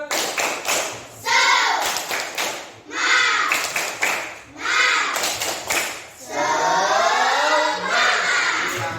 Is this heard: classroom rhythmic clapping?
yes